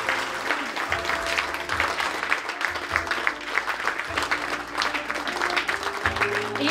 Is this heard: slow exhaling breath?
no